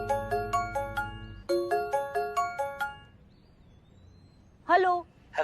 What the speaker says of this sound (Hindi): तुम्हारे ही फोन आ रहे हैं बार बार